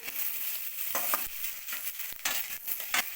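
Soybean chunks fry in hot oil in a pan, giving a steady close sizzle broken by a few sharp stirring scrapes, with no voices.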